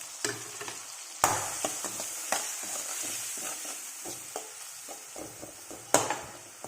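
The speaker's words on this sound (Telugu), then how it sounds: "సాల్ట్, పసుపు, తర్వాత ధనియాల పొడి, తర్వాత కారము వేసేసుకొని కలుపుకుందాం." Salt, turmeric, coriander powder and chilli powder stirred into a frying curry with ginger-garlic paste, a close steady sizzle punctuated by sharp spatula scrapes and knocks against the pan.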